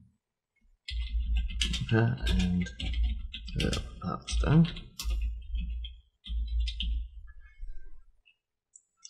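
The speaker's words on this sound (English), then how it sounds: "I need to get a quieter keyboard." Quick keyboard typing clatters steadily beneath a person talking, the keystrokes running in bursts close by.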